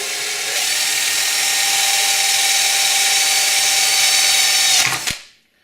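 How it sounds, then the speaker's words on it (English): A power drill with a 6.3 mm bit whines steadily and loudly up close for several seconds, drilling straight through, then spins down and stops. "Drill that hole straight through."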